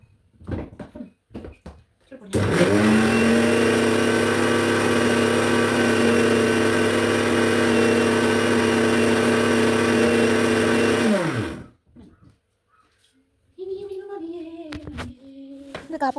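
An electric mixer grinder powders roasted coffee beans with fenugreek and cumin, a loud steady whirring burst lasting about nine seconds that starts and stops abruptly, with a voice speaking briefly before and after.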